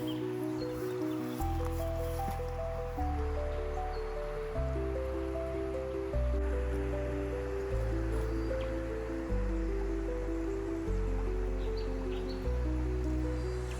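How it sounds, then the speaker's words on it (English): The Mitta River flows steadily at Taylor's Crossing Bridge, a continuous soft rush and gurgle of water heard at moderate distance, partly masked by a low droning hum, with no talking. "the Mitta River is flowing quite nicely"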